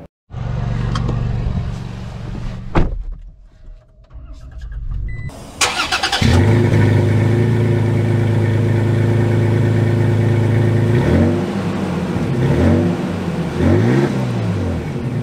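A 2023 Toyota Tacoma TRD Off-Road starts up from inside the cab: a brief crank, the engine catching, a steady idle hum, then several rising and falling revs as it pulls away.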